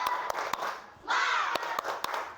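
Schoolchildren in a classroom doing a tepuk semangat clapping chant: a few sharp, evenly spaced claps, then a burst of loud group shouting followed by more claps.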